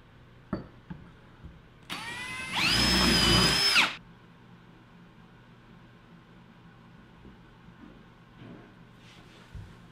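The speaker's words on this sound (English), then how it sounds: "drilling the holes with the Rockler dowel gauge, just as we did before, 4 dowels" A single burst of a power drill whining for about two seconds as it bores dowel holes into wood, guided by a Rockler dowel gauge, amid quiet workshop clicks and taps.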